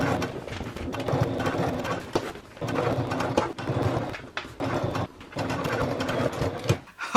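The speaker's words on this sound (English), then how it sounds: "We're going to top stitch alongside the base here lengthwise" A sewing machine top stitching lengthwise along the base of a fabric travel bag, running in bursts of rapid mechanical clatter separated by short pauses, close and clear with no talking.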